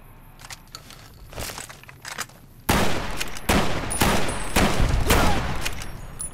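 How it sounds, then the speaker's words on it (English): Trail carbine shots in Fallout: New Vegas, starting as scattered distant cracks and then becoming a loud, close run of repeated gunfire with sharp reports a fraction of a second apart. "I suck at hitting shots with trail carbines"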